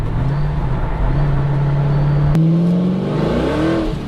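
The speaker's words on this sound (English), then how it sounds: "This thing just burns the tires." A Ford GT sports car engine revs hard and climbs in pitch as it accelerates, loud and close, with a sharp click partway through.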